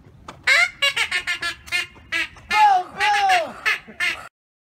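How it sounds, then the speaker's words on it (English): A duck call blown in a series of raspy, squawking quacks, loud and close, with short rhythmic bursts followed by longer drawn-out calls before cutting to silence. "Duck call."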